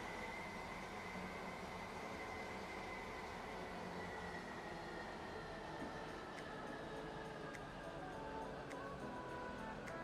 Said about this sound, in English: Where did that train come from?